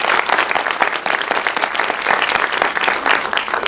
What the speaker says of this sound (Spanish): yo pido un aplauso para nuestros 3 panelistas